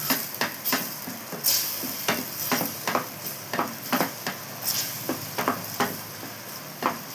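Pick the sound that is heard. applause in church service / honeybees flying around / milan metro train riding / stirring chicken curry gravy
stirring chicken curry gravy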